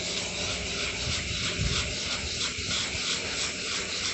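A hand sanding a surface in circular strokes makes a continuous dry, rasping scrub, close and steady, with a brief heavier rub partway through.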